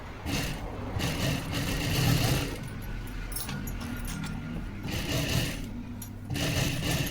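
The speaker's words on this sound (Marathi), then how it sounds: "डबल शिलाई करून घ्यायची इथं जेणेकरून आहे ना ते फसकणार नाही" A sewing machine double-stitches katori blouse fabric in close, loud bursts of rapid whirring stitching separated by brief pauses, with faint handling noise between runs.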